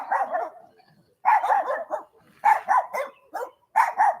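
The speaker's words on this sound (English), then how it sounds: "you see these dogs, eh?" Two small dogs guarding a compound bark repeatedly in quick rhythmic bursts, close and loud, with short pauses between volleys.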